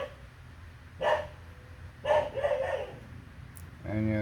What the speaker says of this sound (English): And yes, I have an annoying neighbor's dog.